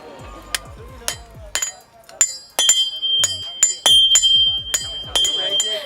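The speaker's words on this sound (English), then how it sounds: "The guy is hitting as hard as he can with this hammer and hitting this tiny piece of metal" Sharp metallic hammer strikes on a tiny piece of metal ring out one after another at an uneven pace, each with a bright clinking tone, close and loud, in Bangladesh.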